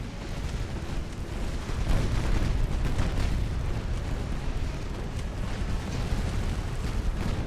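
Torpedoes launched from warships in the naval battle game Ultimate Admiral: Dreadnoughts, heard as a dense, sustained low rumble of blasts that swells after the first couple of seconds and stays heavy throughout, with no talk over it.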